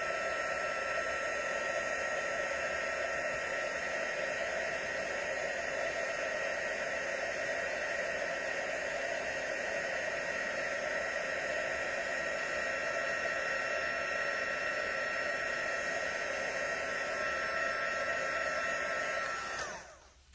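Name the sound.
heat embossing tool blowing hot air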